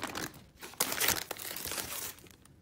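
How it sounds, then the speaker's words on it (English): A plastic bag holding snack cookies from a Taiwanese quarantine care package crinkles and rustles steadily for a couple of seconds, handled up close with no talking. "plastic bag."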